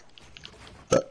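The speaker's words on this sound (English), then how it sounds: "I'm freaking burping like frick" One short, sharp burp near the end of a mostly quiet stretch, close to the microphone.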